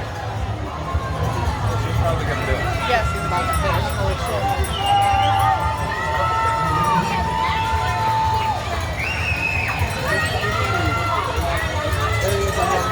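Crowd cheering and shouting along a marathon route in downtown Chicago, a steady wash of voices, whistles and scattered yells close around, with nearby people talking over it throughout.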